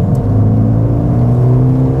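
Mercedes A35 AMG set to Sport Plus mode, its engine giving a steady loud mid-pitched rumble and whir under acceleration throughout, heard from inside the car with no talking.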